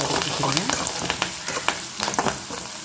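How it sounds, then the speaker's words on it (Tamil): Onions and curry leaves sauté in hot oil with a loud, close sizzle, while repeated clattering stirs of a spoon against the pan punctuate the frying. "இந்த வெங்காயம் நல்லா வதங்கணும்"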